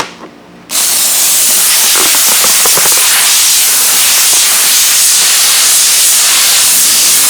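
A handheld steamer hisses loudly and continuously while film is lifted from a panel. It starts with a short quieter moment, then a strong steady spray of steam runs to the end.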